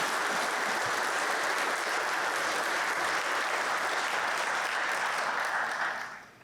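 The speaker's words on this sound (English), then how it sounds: "A round of applause, please, for our sponsors and to the Battleford's Interval House for their incredible community contributions." Dense, continuous applause from a sizable audience at a city State of the City event, honoring sponsors and Battleford's Interval House; loud and even throughout, then tapering off abruptly in the final half second.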